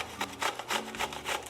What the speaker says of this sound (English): So I'm gonna take a cucumber and grate it.